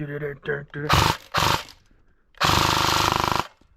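A Cybergun M249 airsoft gun, built for 30 rounds per second, fires loud full-auto bursts near at hand, a short one and then a longer sustained one, with a person talking briefly beforehand.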